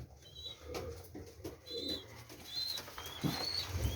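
Domestic pigeons in a loft, a hen with two young, giving soft low coos and rustling, with a few thin high chirps from the squabs, close and moderately quiet over light background noise.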